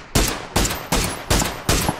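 Gunfire in PUBG comes as five evenly spaced, sharp shots. Each is a loud, close crack with a short decaying tail, and no talk is heard over them.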